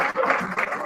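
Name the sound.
applause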